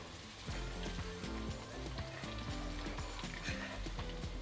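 Marinated masala chicken hits a hot pan and fries with a steady, moderate sizzle that runs unbroken throughout, with no talking.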